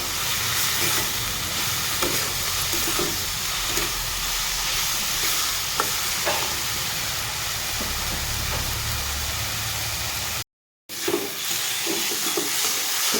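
Masala with coriander powder sautéed in a pan for an egg and potato dish, a dense continuous sizzle and hiss with occasional stirring clicks, close and steady, with one brief dropout near the end.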